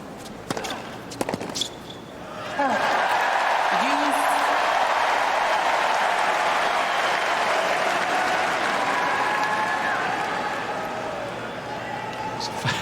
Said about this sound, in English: A bit of sympathy for Bublik from this big crowd this evening